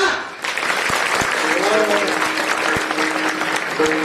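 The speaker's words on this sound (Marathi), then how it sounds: "जरा मोकळ्या अंगाने टाळ्या वाजवा" Audience applause at a kirtan ceremony in Nipani fills the whole stretch, a dense steady clatter of many hands clapping together, with faint voices underneath.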